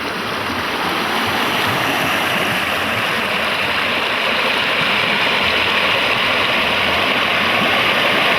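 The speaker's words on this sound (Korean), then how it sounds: "드디어 중국인들이 장백폭포라고 부르는 비룡폭포에 도착했다." Changbai (Biryong) waterfall on Mount Paektu, a 68 m vertical drop fed directly by Heaven Lake, roars in a steady, dense, loud rush of falling water with no pauses, heard up close and alone.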